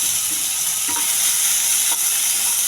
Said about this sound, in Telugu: చిన్న ఉల్లిపాయ, పచ్చిమిర్చి వీటితో పాటు ఏగాలండి.